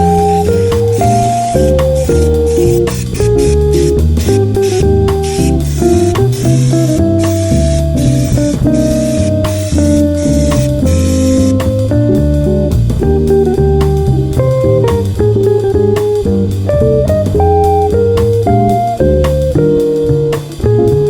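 Asphalt paint is sprayed over the body and frame of a mud truck: a steady, loud, continuous spray hiss that runs without a break and sits under constant background music.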